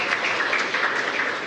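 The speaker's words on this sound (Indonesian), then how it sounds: "Tepuk tangan untuk kita semua." Dense applause from an audience at a school digital-learning launch event, a steady, evenly textured wash of many hands clapping at once, moderately loud and sustained, with no speech over it.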